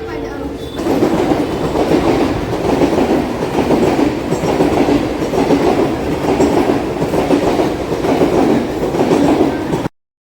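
A train at Mahim railway station in Mumbai rumbles and clatters close by, loud and continuous for several seconds before cutting off abruptly.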